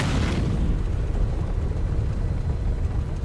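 Deep rumbling blasts of sci-fi laser cannon fire from a Drake Clipper ship in a video game, rolling continuously, heavy low-end booms with a brief sharper burst at the very start.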